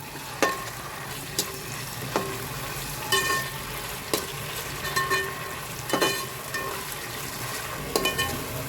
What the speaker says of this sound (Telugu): 2 టేబుల్ స్పూన్లు అయితే వేసానండి అల్లం పేస్ట్, అల్లం వెల్లుల్లి పేస్ట్. ఇప్పుడు ఈ ఫ్రై అవుతున్నాయి.